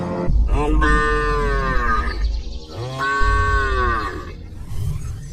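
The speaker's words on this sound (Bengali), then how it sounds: "তাই দেখে গরুটা জোরে জোরে ডাকছে।" A cow moos loudly several times in long, drawn-out calls, close by and dominating the sound.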